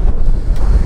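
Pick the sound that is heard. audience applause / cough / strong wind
strong wind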